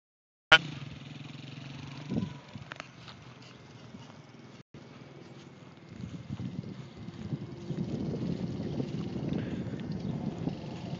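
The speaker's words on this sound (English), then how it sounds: "First time on a motorcycle." A first-time rider on a motorcycle, with a sharp start then a low engine rumble and road noise that grows rougher and louder in the second half, heard from close by.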